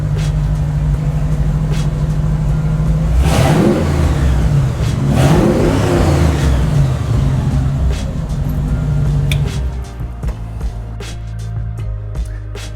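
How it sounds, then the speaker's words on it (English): A Ford Bronco's engine revved up from idle, rising to two loud swells before settling back into a deep, steady idle rumble. "Might as well give it a little rev while we're here."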